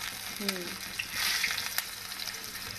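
Large green chillies stuffed with salt frying in hot oil, a close steady sizzle with crackling bursts, and a voice speaking briefly at the start.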